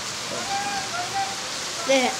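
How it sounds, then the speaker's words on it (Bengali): Heavy rain pours down in a steady, close hiss that fills the short stretch, with a faint tonal sound rising briefly near the end. "দেখতেই পাচ্ছি কত জোরে বৃষ্টি"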